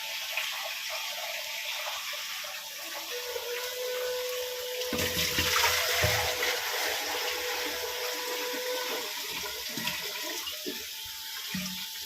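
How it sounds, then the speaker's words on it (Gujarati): Steady rush of water from a tap pouring into a large cooking pot, continuous and close, with a brief louder surge midway and a few faint clinks. "પાણી ચાલુ થઈ ગયું, આપણે પાણી ભરી દઈએ"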